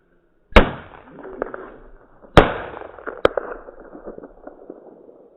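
Small piccolo-type firecrackers explode outdoors in two sharp, loud bangs a couple of seconds apart, each trailing off in crackling debris, followed by a smaller pop.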